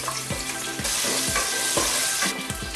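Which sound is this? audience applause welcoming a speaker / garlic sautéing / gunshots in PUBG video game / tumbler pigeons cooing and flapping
garlic sautéing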